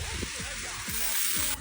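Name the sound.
green beans sizzling in soybean oil in a wok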